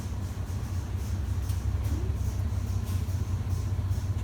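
A car engine runs at a steady low rumble while the vehicle backs up slowly. The sound is close and constant, with no sharp revving.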